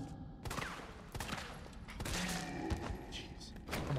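Several gunshots from the Resident Evil 3 video game crack out in quick irregular bursts over about four seconds, loud and close with thuds between them and no talk.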